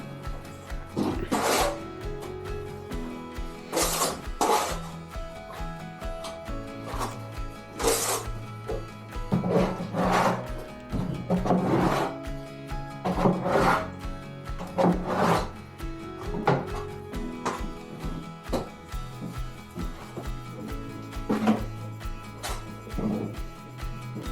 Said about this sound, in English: So that trowel wants to be quite tight to the wall.